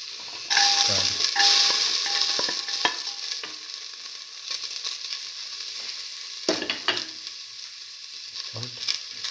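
Garlic drops into a hot pan with mung beans and bursts into a loud sizzle, which settles into a steady hiss broken by a few sharp scrapes and clatters of stirring.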